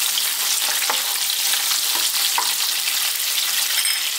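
Sliced onion fries in a hot pan for a spinach and potato curry, making a dense, continuous sizzle with faint crackles and stirring, no talking.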